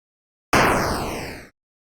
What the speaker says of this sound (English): If I shoot the drone 3 times, we get the explosion sound twice.